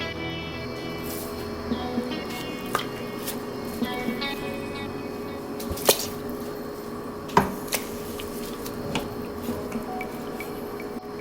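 Pork ribs being set into an Instant Pot for BBQ ribs, heard as faint wet squishes and drips with a few sharper clunks against the pot, soft and close.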